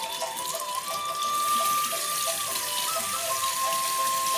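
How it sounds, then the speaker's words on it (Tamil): Tap water runs steadily over an apple being rubbed and washed in a sink, a continuous close splashing hiss without talk. "வாஷ் த ஆப்பிள். ரப் பண்ணி வாஷ் பண்ணு."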